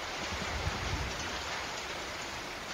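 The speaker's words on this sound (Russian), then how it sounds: "К вечеру пошел дождь." Steady rain falling as a sound effect in an audio fairy tale, a close, even hiss of drops pattering on a surface with no voices.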